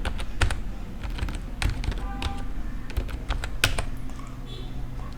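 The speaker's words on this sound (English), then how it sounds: "in the address bar, I'm going to type" Close typing on a computer keyboard as an address is entered into a browser, a rapid irregular run of crisp key clicks and taps with a few heavier strokes, no voices.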